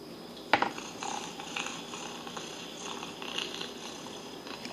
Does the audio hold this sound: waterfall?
no